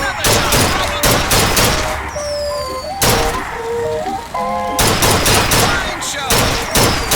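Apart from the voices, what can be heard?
gunshots at shooting gallery in video game BioShock Infinite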